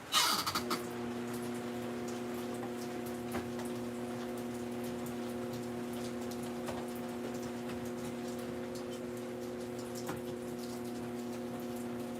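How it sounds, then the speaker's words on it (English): Steady rain falls outside a ceramics studio where garlic jars are being made, a continuous soft patter with occasional louder drips, heard alone over a low constant hum. "Listen to the rain,"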